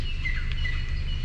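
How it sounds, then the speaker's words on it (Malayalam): Birds chirp and tweet in repeated short calls over a low steady rumble at Wadi Shees in Fujairah, moderately close and without talk. "കിളികളുടെ സൗണ്ട് കേട്ടില്ലേ?"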